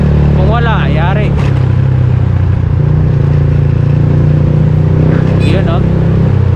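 A motorcycle with a damaged exhaust muffler drones with a steady, loud, low rumble throughout while a person talks over it.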